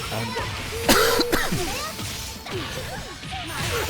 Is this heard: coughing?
yes